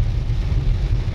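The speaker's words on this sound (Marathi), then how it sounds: "चला तुम्हालाही माहित पडेल बारामतीमध्ये कसा पाऊस पडतोय" Steady rain pours in Baramati as a continuous dense wash of noise with a deep low rumble, loud and even throughout with no voices.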